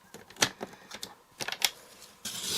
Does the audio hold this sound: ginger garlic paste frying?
no